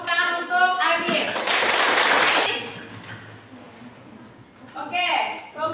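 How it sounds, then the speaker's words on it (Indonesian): Audience applause in a school classroom rings out for about a second and a half as broadband clatter, with a teacher's voice before and after it. "Tepuk tangan untuk Adit."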